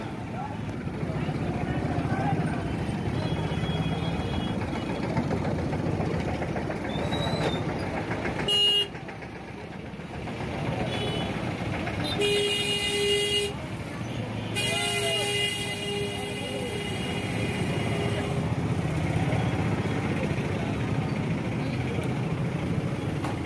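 Crowded village market street beside a railway crossing, with a constant rumble of traffic, repeated horn toots and blasts, and voices talking throughout.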